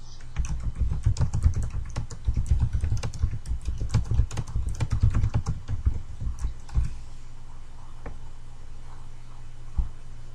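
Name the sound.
typing on a computer keyboard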